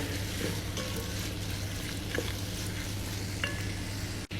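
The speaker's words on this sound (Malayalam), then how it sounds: "നന്നായിട്ട് മിക്സാക്കി യോജിപ്പിച്ച് കൊടുക്കാം" A lemon and date pickle mixture is stirred in a pan, giving a soft, continuous sizzle with faint scrapes and light clicks of a spoon over a low steady hum.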